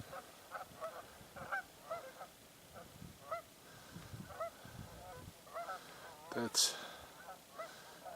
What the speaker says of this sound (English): at the open spots, you have geese.